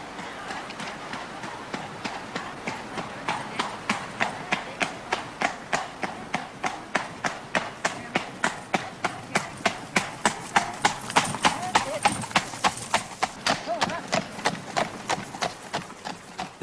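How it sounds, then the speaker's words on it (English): Four horses pull a carriage along a road with a fast, steady clip-clop of hooves that is close and continuous throughout. "4 horses pulling it."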